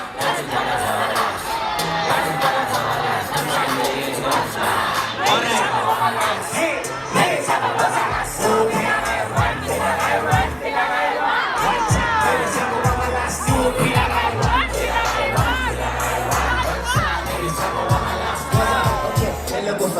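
A large crowd at a live concert cheers and shouts loudly and continuously, with rhythmic thumping beneath the roar.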